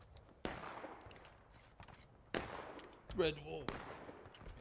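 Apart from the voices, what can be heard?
gunfire volleys in a video game battle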